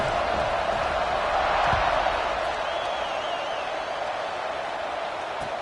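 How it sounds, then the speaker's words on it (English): A football stadium crowd at a Vols game keeps up a loud, steady roar and buzz after a score, a dense wash of voices that barely rises or falls. "this crowd is buzzing after that last score"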